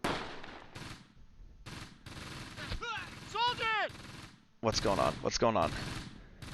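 Bursts of WWII-era rifle and machine-gun fire in Close Combat: Gateway to Caen, set on the Fontenay–Caen road in June 1944; sharp cracks and rattling volleys come in clusters, with a voice speaking over part of the firing.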